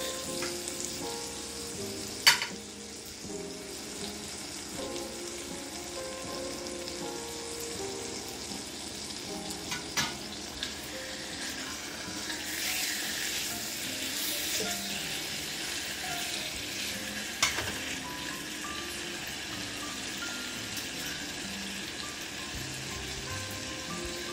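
Steady frying sizzle of pork ribs in a hot pot fills the whole stretch, broad and constant, with a few sharp clinks and stirring clatters on top.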